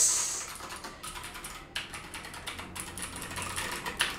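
Rapid clacking of an Anne Pro 60% mechanical keyboard being typed on, steady and fairly close, with crisp individual key strikes and no voices.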